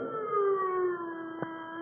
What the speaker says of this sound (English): The sound of the sirens howled in his ears like the wail of an avenging demon